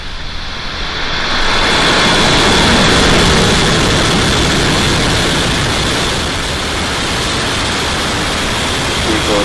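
A SpaceX rocket lifts off on a Starlink satellite launch from Florida, its engines giving a loud, continuous broadband roar that swells over the first few seconds and holds steady with a deep rumbling low end.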